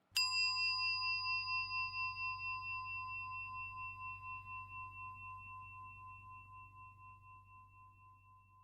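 A single bell strike rings out clearly and then sustains a long, pulsing tone that slowly fades over several seconds, with a low hum underneath.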